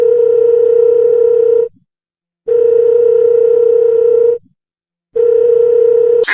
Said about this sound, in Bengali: আমি ফোন দিতাছি এখন।